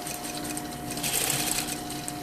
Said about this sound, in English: you go all around and sew at 1 centimeter